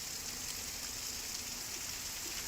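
Steady heavy rain pours on flooded roads in Vasai Virar, a continuous even hiss of water with no break or voices throughout.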